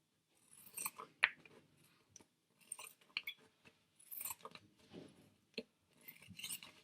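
Scissors snip through the excess edge of a homemade beeswax-coated fabric wrap, several short quiet cuts and rustles spaced out with pauses, close and soft.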